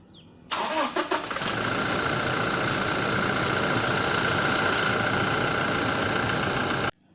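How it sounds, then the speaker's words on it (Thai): A Toyota Revo 2.4 engine cranks briefly, catches and starts, then settles into a loud, steady idle that runs close by for several seconds with no talking. "ไปสตาร์ทเครื่องก่อนครับ"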